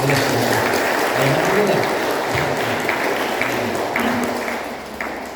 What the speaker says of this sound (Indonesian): yang boleh tepuk tangan lah.